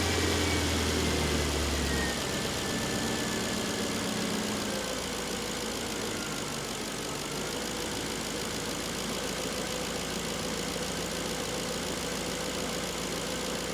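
Jaguar XK8 engine idling after a new temperature and crankshaft sensor fitting, a steady low hum that drops in pitch early on as the idle settles, heard alone at moderate level.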